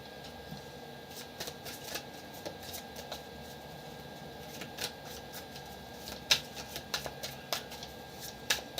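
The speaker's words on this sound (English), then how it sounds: "Okay, I'm shuffling the cards" Soft, quiet riffling and ticking of tarot cards being shuffled, in irregular bursts with a few sharper snaps near the end, under a low background hum.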